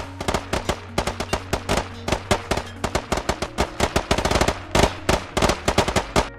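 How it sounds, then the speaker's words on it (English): Sustained machine gun fire on a training exercise, two guns alternating in a dense run of loud, sharp bursts with no lull, close and continuous. "The whole intent is to ensure there's no lull in the gunfire, thus talking guns."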